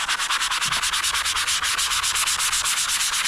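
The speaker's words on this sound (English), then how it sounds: "I guess we're wet sanding today, boys" Wet sanding a Secretlab Magnus desk with a sandpaper block, close rhythmic back-and-forth rubbing strokes, steady and rapid, a gritty abrasive swish repeating several times a second with no voices.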